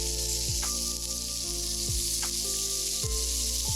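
Pork chops frying in a pan give a steady, close sizzle that runs without a break, with a few scraping knocks from turning the meat.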